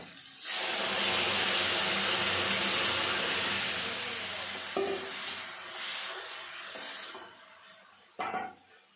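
Papaya and red lentils being stirred together in a pan after onions were fried deep red, giving a steady wet sizzling and scraping near the mic, easing off midway with a couple of sharp knocks on the pan.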